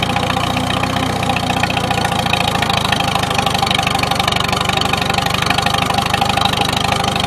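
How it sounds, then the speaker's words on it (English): A 1953 Farmall Super H tractor engine labours steadily while climbing a hill in fourth gear, a loud, continuous low rumble with a rapid knocking pulse that holds through the whole stretch with no talk. "See if it goes to lug out and die when I go up the hill here."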